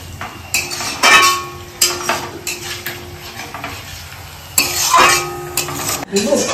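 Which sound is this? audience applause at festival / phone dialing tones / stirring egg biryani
stirring egg biryani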